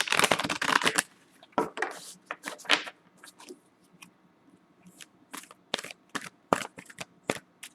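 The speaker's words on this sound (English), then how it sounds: "Let me shuffle these again." Tarot cards are shuffled in quick riffling bursts, a crisp flutter followed by scattered snaps and taps, close and fairly quiet.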